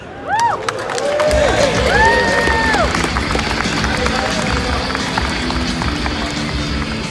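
A crowd applauding and cheering a host's entrance onstage at the SEMA 2019 Ford Bronco reveal, a loud sustained roar of clapping and whoops with a held tone and brief talk over it.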